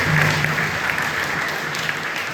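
Church congregation clapping in praise of God during a service, a sustained and fairly loud patter of many hands with a faint voice under it.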